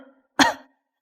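A single short, sharp cough from a woman on a phone call with a man, close and alone, following a brief stretch of quiet speech.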